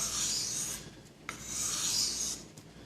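A kitchen knife is hand-sharpened with long, steady rasping strokes, two drawn-out passes separated by a brief pause, close and fairly quiet.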